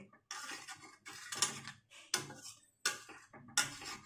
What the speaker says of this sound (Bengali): আর আলুগুলো ঠিক এরকম ভাবে কাটতে হবে